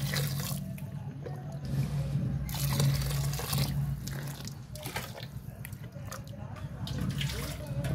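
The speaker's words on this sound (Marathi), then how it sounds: "ज्वारीच्या पीठ मध्ये मिक्स करायचं आणि गरम पाण्याने धुवून घ्यायचं" Mixed vajdi offal is washed with hot water, producing running, splashing water like a tap into a sink. The splashing swells and eases in waves over several seconds, with faint voices in the background.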